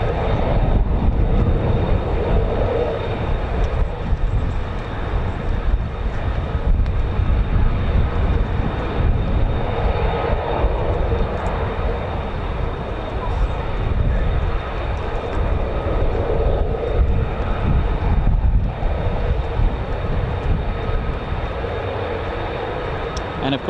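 Four F-35 fighter jets of the 48th Operations Group fly near RAF Lakenheath, a continuous loud broadband engine roar that swells and eases slightly over about twenty seconds with no break.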